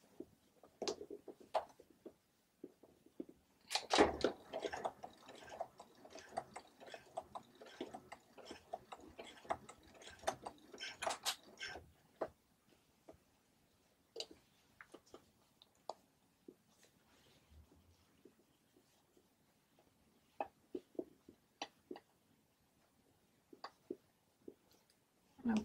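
A sewing machine stitches slowly over a bulky section of a jumpsuit being refashioned, a dense run of rapid ticking needle strokes in the first half, then sparse isolated clicks and pauses.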